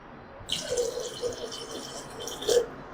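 Water poured into a mixer grinder jar while making a soup, a splashing trickle that starts after a short pause and runs for about two seconds with small surges, fairly close and alone without talk.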